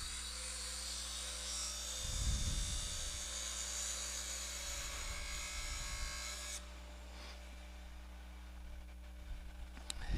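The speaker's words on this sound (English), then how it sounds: "I'm going to put the parting tool right over the very dead middle of that line" A parting tool cuts into wood spinning on a lathe, a steady high hiss and whine over the low drone of the motor, the cutting noise stopping partway through while the machine keeps humming, and no one speaking.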